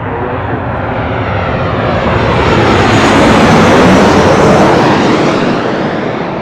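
A Delta jet on departure thunders past with a loud, rushing engine roar that swells toward the middle and eases slightly at the end, heard alone without talk.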